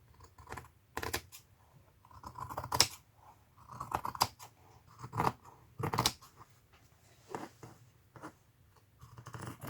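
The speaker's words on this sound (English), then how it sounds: "Get my fabric scissors." Fabric scissors snip through fabric in a series of short, crisp cuts spaced irregularly, close up in a quiet room.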